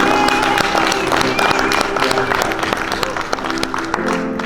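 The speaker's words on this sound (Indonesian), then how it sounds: "Sekali lagi kita boleh tepuk tangan yang sekeras." Wedding guests clapping at a reception as the newlyweds are introduced, a continuous round of applause mixed with background music and murmuring crowd.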